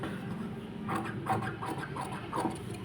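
Blouse fabric is cut with scissors for maggam embroidery work, giving soft, close rasping snips and rubbing strokes in an uneven rhythm with no talking.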